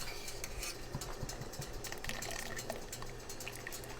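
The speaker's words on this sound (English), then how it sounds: "now we take and we drain the pasta like this" Cooked penne drained for a creamy vodka shrimp dish, with water splashing and trickling out steadily, soft clinks of the pot, and a continuous wet rush close by.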